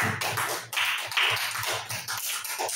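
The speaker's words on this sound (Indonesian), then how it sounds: "Berikan aplaus untuk kelompok 1" Students in a classroom applaud for group 1 after their Islamic religious education presentation, steady close clapping from a small group with irregular taps throughout.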